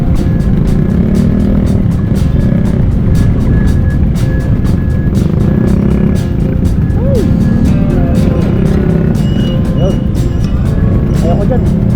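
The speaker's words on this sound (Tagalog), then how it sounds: "Super heavy traffic na naman." Dense, heavy road traffic crowded with jeepneys in Tanza, Cavite, a steady close wash of idling and creeping engines with occasional horn or brake tones, while people talk over it.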